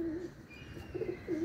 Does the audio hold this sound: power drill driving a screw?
no